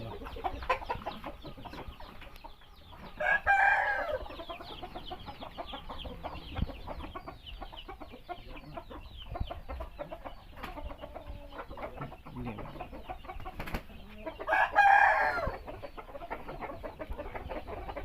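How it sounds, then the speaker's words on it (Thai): Lampang chickens on a Thai breeding farm crow and cluck, with two long loud crows standing out a few seconds and several seconds apart over steady clucking and faint farmyard background. "ไก่ลำปาง"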